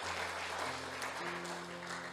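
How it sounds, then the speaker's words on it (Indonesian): Congregation applauding during a church sermon, a soft wash of clapping at a distance under a steady sustained tone, continuous for a couple of seconds. "Tepuk tangan untuk Tuhan."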